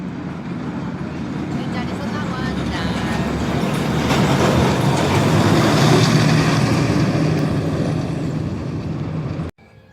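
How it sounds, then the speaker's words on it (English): A roller-coaster train at Chessington rumbles and clatters along its track, swelling louder as it passes, with a steady rolling roar and people talking underneath; two trains are running at once. "Two trains running in one go, that's brilliant!"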